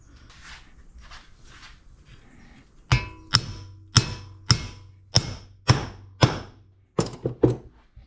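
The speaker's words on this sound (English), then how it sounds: "So now we're going to drive the outer bearing. What I'll use to do that is a" Hammer blows on a 27mm socket driving out a Yamaha Rhino 700 rear wheel bearing: about nine sharp metallic strikes in a steady rhythm, close and loud, after a few softer taps.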